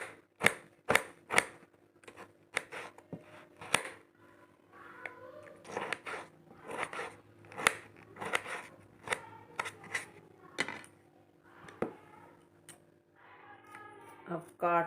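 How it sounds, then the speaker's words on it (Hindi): A knife chops tomatoes on a board in a home kitchen in a series of crisp, close taps at an irregular rhythm, with someone talking between the cuts. "और अब काट लेते हैं टमाटर"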